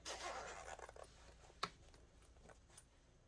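A pocket zipper on a handmade travel satchel is pulled closed in a quick, scratchy burst at close range, then slows into a few softer rasps and ends with one sharp click, with no talking.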